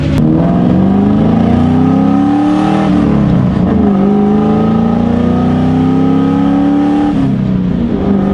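A straight-piped Mustang engine roars loudly and continuously while driving, its deep rumble rising and falling slightly as the revs shift.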